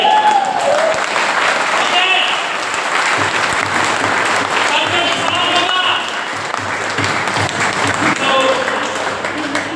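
Audience at a seminar session in Ramnagar, Jim Corbett, clapping loudly and continuously, a dense close round of applause sustained throughout with faint voices underneath.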